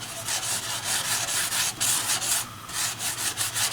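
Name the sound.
paintbrush scrubbing acrylic paint on canvas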